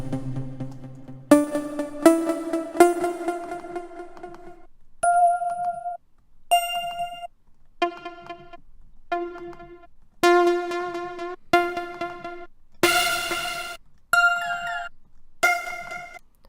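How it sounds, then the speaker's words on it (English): A Poppy Bells synth preset in FL Studio plays a melody layer of bright, bell-like detuned tones, struck in a steady sequence of ringing notes that decay between hits, alone with no talk. "I like this noise, Poppy Bells"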